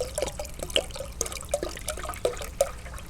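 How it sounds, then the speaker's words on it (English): Hot water is scooped and poured during a glass bottle cutting project, with light splashes, drips and trickling in an irregular rhythm close by. "Scoop some hot water."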